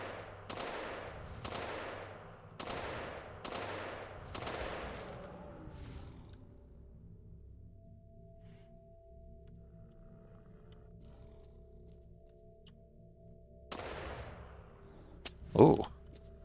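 Gunfire in the Fate of the Zone game mod, set at night: a rapid burst of five sharp shots over the first few seconds, then a quiet stretch with low hum, and two more loud shots near the end.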